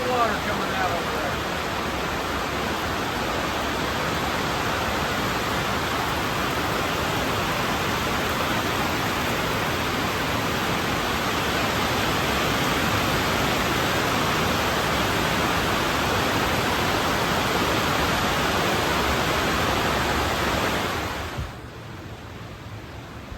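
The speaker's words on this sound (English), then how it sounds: "it's raining in the south, and I can't film here in the shop because the old tin roof makes a whole lot of noise" Heavy rain pounds an old tin roof over a shop during a southern storm, a dense, loud, unbroken roar that drops off abruptly near the end.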